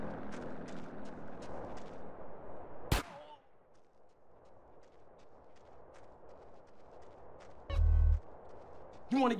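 Gunfire in GTA San Andreas: a sharp single shot rings out near the middle, with another loud burst of shots near the end, over low game background noise and talk at the start.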